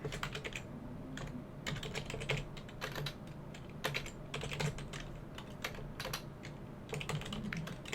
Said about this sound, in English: let me, if I can type right